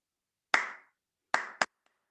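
Children in a primary school class give one sharp clap, then after a pause two quick claps in a row, each crisp and close in an otherwise quiet room.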